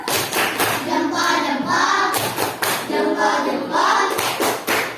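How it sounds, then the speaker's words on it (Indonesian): A group of teachers at a coaching session claps hands in a lively, rhythmic volley of sharp, close slaps, with a few voices mixed in. "Tepuk tangan"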